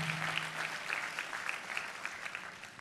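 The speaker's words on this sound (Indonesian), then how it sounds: "tepuk tangannya paling meriah buat Yesus Tuhan kita" A church congregation claps for Jesus in a dense, sustained round of applause that carries on evenly throughout, with a faint voice briefly underneath at the start.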